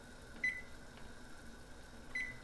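A kitchen timer gives two short, faint electronic beeps about two seconds apart over a quiet, humming kitchen background.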